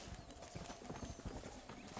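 Steady clip-clop of horse hooves in Red Dead Redemption at a brisk, even pace, with a dense noisy background and no talking.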